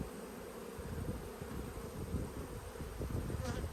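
Honey bees buzz at an open hive on a February day, a dense, steady drone of many wings close by. A faint tone runs underneath, and no voices are heard.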